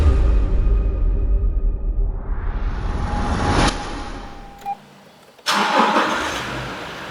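The diesel engine of a 2020 Toyota Land Cruiser Prado TZ.G runs with a steady, close, low rumble that briefly dips and cuts out before surging back.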